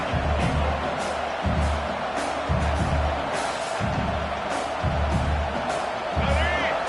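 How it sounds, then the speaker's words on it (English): Football stadium crowd at a Ducks game, a broad roar of cheering with rhythmic low thumps from chanting or drums, a commentator talking over the noise. "this crowd is fired up. Listen to this noise here"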